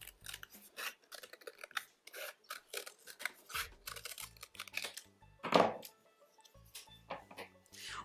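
Scissors snipping around paper for a scrapbook journal, a long run of quick, close, crisp cuts with short pauses and one louder rasping snip near the end.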